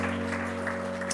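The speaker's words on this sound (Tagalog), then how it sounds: "Palakpakan po natin ang ating Panginoon." A church congregation claps for the Lord during a worship service, a dense, moderately quiet patter of hands running steadily under a sustained keyboard or organ drone.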